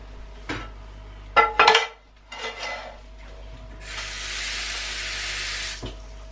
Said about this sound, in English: I'll put this in a pan, a frying pan, fill it with a little bit of water